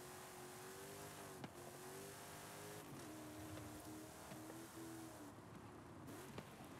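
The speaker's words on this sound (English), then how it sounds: "listen to the engine. It cuts." A race car's engine in a racing video game revs high and hard, its pitch climbing and falling, with several brief cutouts where the power drops before it picks up again.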